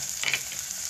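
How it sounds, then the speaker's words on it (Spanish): Onion and garlic sautéing over medium heat for a cauliflower soup base: a steady, close sizzle with a brief burst of stirring scrapes near the middle, no voices. "Vamos a dejar que se poche pues unos 6 minutos a fuego medio."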